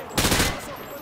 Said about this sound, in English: Turn around and fire at the targets.